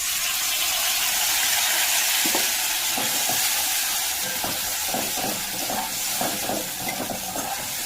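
A paste of ginger, dry chili and tomato sizzles and hisses in a hot pan, with a constant frying sizzle broken by repeated scraping stirs in the second half and no talk.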